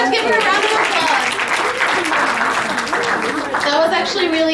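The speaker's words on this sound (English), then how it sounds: "Give her a round of applause." An audience at a talk gives a sustained round of applause, dense clapping at a steady level with some voices mixed into the crowd noise.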